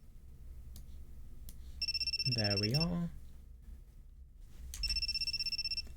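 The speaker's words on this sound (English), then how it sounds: "Right, thanks for the really loud phone sound effect." Cell phone in the video game You and Me and Her rings in two bursts of steady electronic tones, fairly faint, with a person speaking briefly between them.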